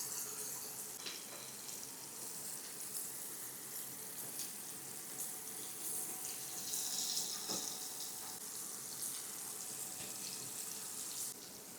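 Peri peri paneer tikka shallow-fries in oil in a pan, giving a quiet, continuous sizzle and crackle with scattered small pops throughout.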